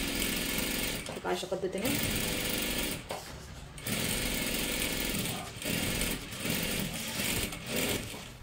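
A sewing machine runs steadily while stitching a dress with canvas paper, its loud continuous whir pausing briefly a few times, with a voice talking over it.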